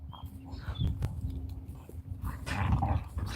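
Several dogs romp outdoors in a spring garden, letting out close, rough growls and short barks over about three seconds of scuffling.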